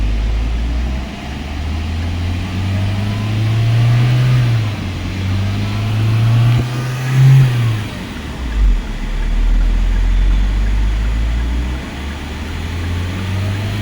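A car engine runs steadily at idle after DPF cleaning with a pro tool and Liqui Moly cleaner, a low continuous drone with a few slight rises in pitch, heard close and alone.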